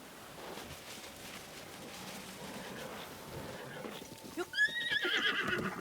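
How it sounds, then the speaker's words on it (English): In Zelda: Breath of the Wild, a feisty horse lets out a sharp neigh near the end, after a stretch of hoof clip-clops and game ambience, with a player talking over it. "it's always the feisty horses that are hard to tame, isn't it?"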